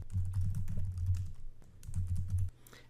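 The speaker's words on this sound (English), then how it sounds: "it's a matter of simply clicking on each area and just typing the content of your slides" Fingers type on a computer keyboard in two bursts of rapid, close key clatter separated by a short pause, with no talking.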